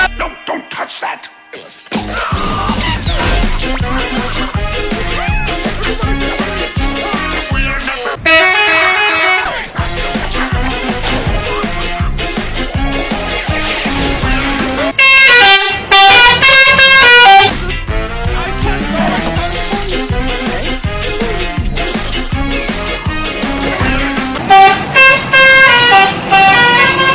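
Telolet-style bus horn melodies sound loud and continuous, woven through a dense musical track with repeated melodic honks and bursts, no talk.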